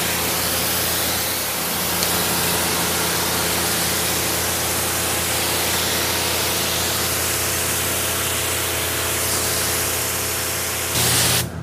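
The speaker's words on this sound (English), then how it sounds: "So now, I'll spray it off" A continuous spray of water rinsing a car hisses steadily up close, broadband and unbroken, with a low engine-like hum underneath, ending with a brief change near the end.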